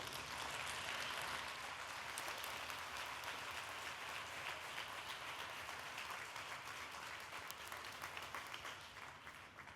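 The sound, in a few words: audience applause for speaker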